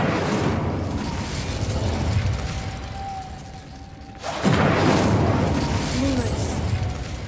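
An Incendio fire spell going off in Hogwarts Legacy: a steady, loud roaring whoosh of flame and rumble that fills the scene, briefly easing before surging back even stronger and continuing without pause.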